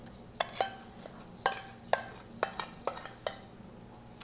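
A metal spoon spreads a crust mixture across the bottom of a parchment-lined springform pan, giving a quick series of close, light clinks and scrapes against the pan in an uneven rhythm.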